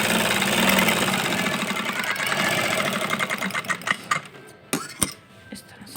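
A sewing machine stitches a seam in women's trousers, running in a steady fast mechanical whir that then slows into a few separate clunks and clicks as it stops, fairly close and with no voices.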